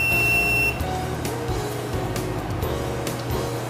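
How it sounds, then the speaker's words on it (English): High-level alarm buzzer on a tanker: a loud, steady electronic tone sounds for under a second and then cuts off, leaving a constant mechanical hum with no voices. "To stop the buzzer, you push the buzzer stop button"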